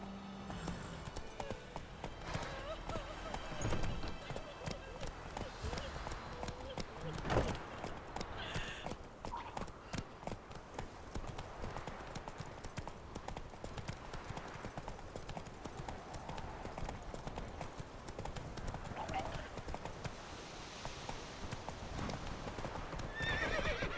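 Horse galloping in The Witcher 3 video game, with rapid steady hoofbeats that continue throughout, occasional neighs, and music and game ambience underneath.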